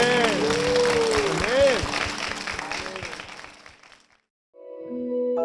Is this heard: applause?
yes